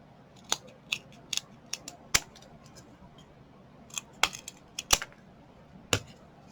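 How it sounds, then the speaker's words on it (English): Scissors snip material for handmade garden picks for potted plants, sharp isolated clicks and cuts spaced irregularly, some louder and close, over a quiet room. "I'm going to use scissors on these."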